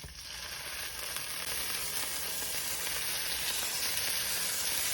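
Swordfish steaks fry in oil in a pan, giving a close, continuous crackling sizzle that builds slightly after the first second and then holds steady, with no talking.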